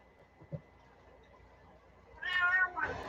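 A cat meows loudly and close by, two harmonic cries in quick succession near the end after a quiet stretch, with a soft bump earlier.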